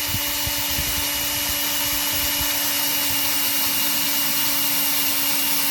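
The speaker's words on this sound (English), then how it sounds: "I've got the drill hooked up to it now." Cordless drill driving a Trailer Valet drill-powered trailer jack, a steady loud whirring motor whine with grinding mechanical drone held continuously without pause, no voices.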